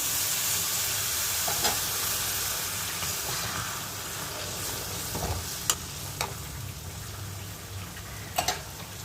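Masala paste frying in a pan sizzles steadily as water from the spice bowl goes in, giving a broad, even hiss with a few scattered clicks and scrapes of stirring.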